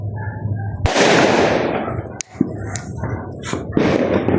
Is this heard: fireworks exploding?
yes